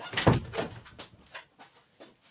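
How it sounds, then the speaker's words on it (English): A house door is pushed shut, giving one loud close thump followed by a few softer knocks and rattles that fade away. There is no talking. "I'm going to have to shut the door though."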